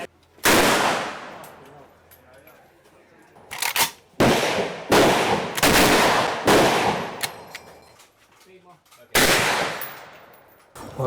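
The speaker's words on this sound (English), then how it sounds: "you might have heard gunshots in the background" Loud gunshots crack from a live firing range, several sharp bursts in quick succession with short gaps, one isolated shot and a final burst, each ringing out with echo.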